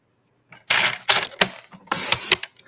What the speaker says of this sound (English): Let me get these pieces cut down like I did page 1.